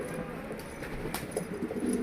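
Soft pigeon cooing murmurs low and steady through the whole stretch, close by, with faint rustling and a few brief flutters.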